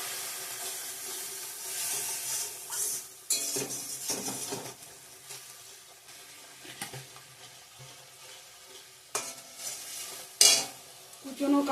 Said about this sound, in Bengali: জিরে গুঁড়া লঙ্কা গুঁড়া দিয়ে দিলাম ভালো করে কষিয়ে নেবো মশলাটা